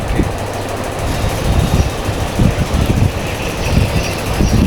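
A metro train near Howrah, Kolkata runs with a loud, steady rumble and rhythmic clattering of wheels on track, close by and without speech.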